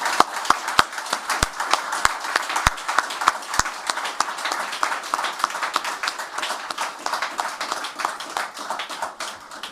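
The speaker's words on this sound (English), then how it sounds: "Please join us in a round of applause for the new Commissioned Second Lieutenants." An audience at an ROTC commissioning ceremony applauds the newly commissioned second lieutenants with dense, sustained clapping and a few sharp, distinct claps near the microphone. The clapping thins gradually toward the end.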